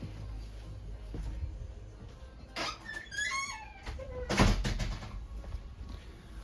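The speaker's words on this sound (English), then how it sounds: "I gotta shut the door." A door is handled and shut with a couple of squeaky scrapes followed by a muffled thud, in a quiet indoor room.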